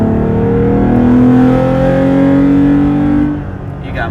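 Toyota Tacoma TRD Off-Road fitted with a K&N cold air intake accelerating, a loud, steady engine drone with rising harmonic tones that holds for several seconds before easing off near the end.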